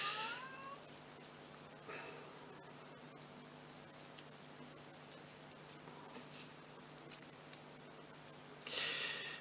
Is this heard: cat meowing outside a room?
yes